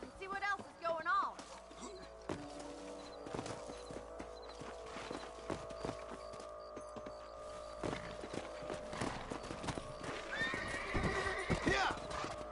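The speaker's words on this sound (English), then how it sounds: "Let's get back on the horses and see what else is going on." Horses in Red Dead Redemption clop steadily on hooves and neigh in sharp whinnies, including a rising whinny near the start and another near the end, with scattered thuds and a voice under the hoofbeats.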